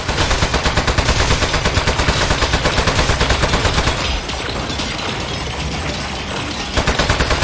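Rapid gunfire in the video game Aperture Desk Job, a loud fast rattling burst of shots, a brief lighter pause, then the shooting starts again near the end.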